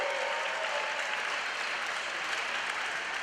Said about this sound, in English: We want to give everybody a round of applause for making this happen this year.